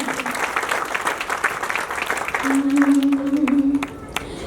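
A crowd claps at a Hindi poetry recital. Brief applause runs under the poet's continuing voice, and a sustained sung tone rises over it midway.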